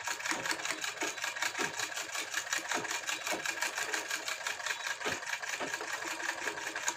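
Sewing machine stitching a fabric strip onto a blouse back neck, running continuously with a fast, even mechanical whir and rapid needle ticking, close-up and steady throughout with no speech.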